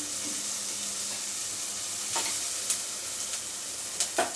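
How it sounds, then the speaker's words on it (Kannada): Onions frying in a pan for fried rice make a continuous close sizzle, with a few light stirring clinks and scrapes and no voices. "ಹಾಫ್ ಹಾಫ್ ಆನಿಯನ್ ಫ್ರೈ ಆದಮೇಲೆ ಕ್ಯಾಪ್ಸಿಕಮ್ ಅದನ್ನು ಹಾಕೊಳ್ಳೋಣ"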